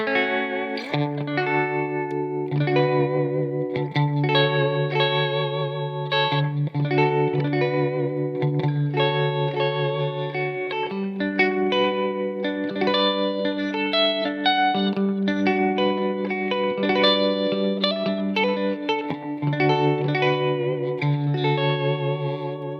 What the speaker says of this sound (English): Really cuts through, especially when you start adding effects or tremolos and stuff.